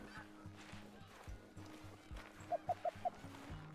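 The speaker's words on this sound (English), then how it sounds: "Got a bunch of geese here, but they're just regular Canadians." A flock of Canada geese in the hunting game Call of the Wild gives four quick, faint honks in close succession over a low, rhythmic ambient hum.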